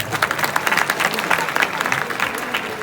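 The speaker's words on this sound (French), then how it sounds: "je vous prie d'applaudir la Guinée, s'il vous plaît" Audience applause at an awards show, a steady wash of many hands clapping at moderate level with some crowd murmur mixed in, sustained throughout without a clear break.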